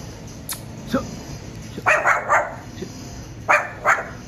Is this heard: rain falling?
no